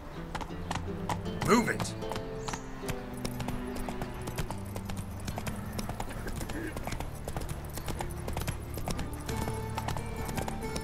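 Roach, a horse in The Witcher video game, gallops with a rapid rhythmic clip-clop of hooves and one short whinny early on, while someone speaks briefly over the hoofbeats.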